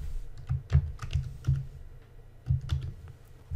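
Computer keyboard being typed on in short irregular bursts of clicking keystrokes, close and clear, no voices.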